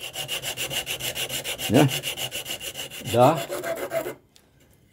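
Wood is sanded by hand with 80-grit sandpaper wrapped around a small tube, giving a close, rhythmic rasping of quick back-and-forth strokes that stop abruptly near the end, with a few brief spoken words.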